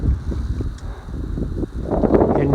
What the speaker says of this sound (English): Pretty windy and getting brisk.